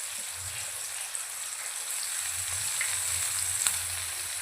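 Chopped onion sautéing in a hot pan for butter chicken, a steady close sizzle and crackle of frying that runs evenly throughout with faint stirring scrapes underneath.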